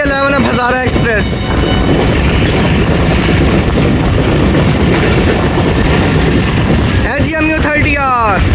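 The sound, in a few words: Hazara Express train passing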